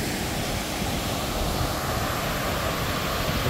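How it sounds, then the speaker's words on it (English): Water in a stream on the Erie Canal flows toward the falls as a steady, dense broadband rush, loud and unchanging throughout with no voices. "Goes down the stream, and it seems to cut into another, like it goes into two streams here."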